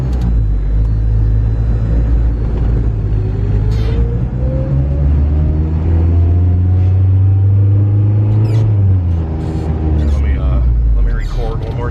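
K24 turbocharged Honda Civic engine on a road drive, a deep close rumble that swells and rises in pitch as it accelerates, then drops back, with some talk over it.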